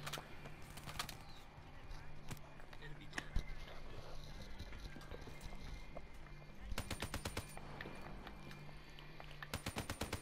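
Rapid bursts of gunfire from a weapon in Call of Duty Black Ops 3, in clustered volleys of repeated shots over game background sounds, fairly loud and steady through the clip.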